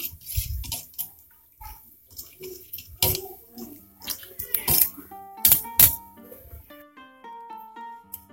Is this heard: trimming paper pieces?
no